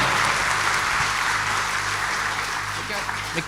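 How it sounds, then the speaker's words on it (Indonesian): Audience applause at a business talk event, dense, fairly loud clapping throughout with a low hum or voices running underneath. "kasih tepuk tangan yang paling meriah"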